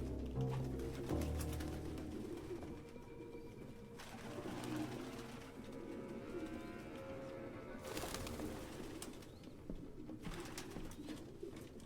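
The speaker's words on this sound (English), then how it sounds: "No human could live with all these fucking pigeons." Pigeons coo in a flock inside a derelict apartment in the Detroit: Become Human video game, soft repeated throaty calls and wing flutters layered close together, with no voices over them.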